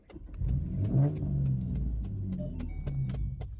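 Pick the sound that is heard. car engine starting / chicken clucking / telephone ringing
car engine starting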